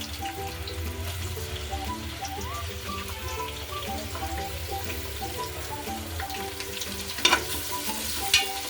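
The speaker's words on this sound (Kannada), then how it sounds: "ಅದಕ್ಕೆ ಚಕ್ಕೆ, ಲವಂಗ, ಪಲಾವ್ ಎಲೆ, ಕಸ್ತೂರಿ ಮೇಥಿ, ಈರುಳ್ಳಿಯನ್ನು ಹಾಕಿ ಚೆನ್ನಾಗಿ ಫ್ರೈ ಮಾಡಬೇಕು" Onions sizzle and fry in oil with cinnamon, cloves, bay leaf and kasuri methi for chicken biryani, a steady crackling bubble broken by occasional stirring clatter near the end.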